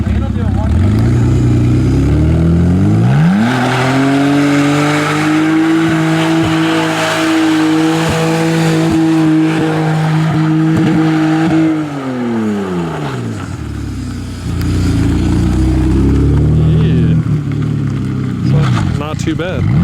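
A budget BMW E46 drift car with a rough idle runs and revs: its engine climbs to a sustained high drone, holds, then drops back, loud and close, with someone talking over it.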